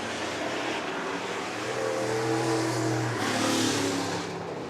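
Race cars roar around the Worthington Speedway oval under caution, a steady, distant engine drone that swells as the cars come through turns 3 and 4.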